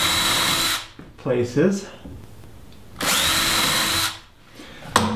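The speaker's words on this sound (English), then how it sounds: "Now I'm going to use a 1/16 bit to put a pilot hole in." A power drill with a 1/16 bit bores a pilot hole during a tiny house Dutch door build, whining in two loud, steady bursts of about a second each, with a short spoken word between them.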